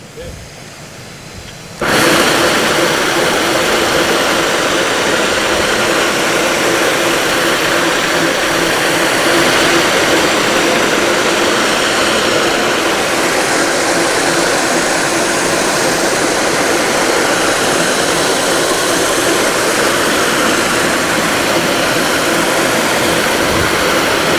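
A floor sander fitted with Bona diamond sanding plate abrasives starts up abruptly and grinds steadily at high volume across a wood floor, a dense continuous roar with no break.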